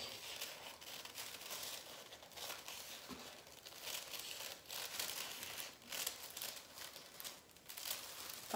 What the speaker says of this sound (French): je vais découper une ceinture